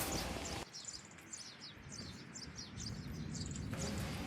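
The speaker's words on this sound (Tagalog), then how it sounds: "mga huni ng mga ibon na maririnig mo" Several quick, high bird chirps repeat in a rapid series over a soft outdoor background at a mountain rose farm in Khamis Mushait, Saudi Arabia, fairly faint and distant.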